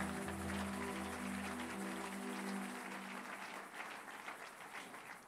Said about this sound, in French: Tu peux acclamer le Seigneur.